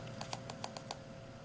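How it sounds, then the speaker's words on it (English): Small plastic firing button on an Innokin Z Biip vape pen clicked in quick succession, about six faint, crisp ticks in an even rhythm, close up and quiet, with no voices. "to turn this device on, you just want to go on this side firing bar right here. You want to click it 3 times."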